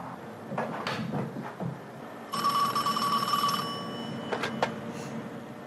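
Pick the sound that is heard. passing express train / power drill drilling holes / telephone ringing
telephone ringing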